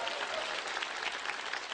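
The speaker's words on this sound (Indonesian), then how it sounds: "Boleh tepuk tangan buat Soleh lah" Dense audience applause fills a stand-up comedy show, a steady broadband wash of many hands clapping with no gaps throughout.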